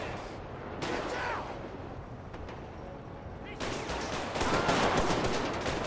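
Gunfire in a GTA 5 police mod shootout, several sharp shots and bursts over noisy game ambience, with a voice speaking faintly underneath.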